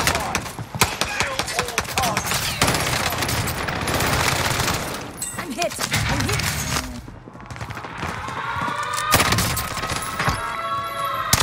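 Bursts of automatic gunfire in Call of Duty Warzone: close, rapid rattling volleys repeat throughout, briefly easing in the middle before more shots follow, with game voice lines heard underneath.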